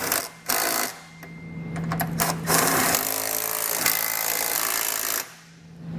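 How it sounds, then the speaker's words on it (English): Hitch bolts being snugged down with an 18 millimeter socket during a Stealth Hitches hidden rack receiver install on a 2022 BMW X7, giving a steady close ratcheting, buzzing mechanical run with brief breaks, alone without talk. "we'll come back with our 18 millimeter socket and snug it down"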